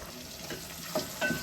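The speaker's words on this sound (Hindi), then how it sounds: "चलें, टमाटर हमारे अच्छी तरीके से भुन गए।" Tomatoes frying in a pan for a turai (ridge gourd) sabzi, a soft steady sizzle with a couple of brief clinks or stirring scrapes near the end.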